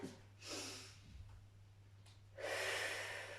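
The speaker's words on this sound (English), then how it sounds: "Take a deep breath in" Deep breaths drawn in and let out during a gentle whole-body exercise routine for older adults, two slow, soft breathy swells, close to the microphone, with a steady low hum underneath.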